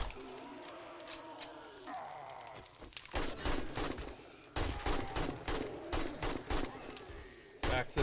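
Bursts of 9mm gunfire ring out in the video game 7 Days to Die, loud rapid volleys of sharp shots in clustered runs after a quieter opening stretch.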